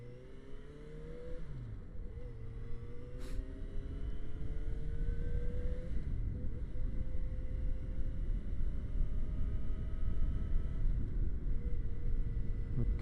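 Riding a Yamaha XJ6F motorcycle at about 40 mph, with a steady low engine drone and heavy wind rush building and holding throughout, no speech.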